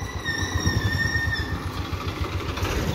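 A CAT machine loading mud into a tractor runs its engine with a steady, low rumbling throb, joined early on by a thin, high whine that fades out partway through.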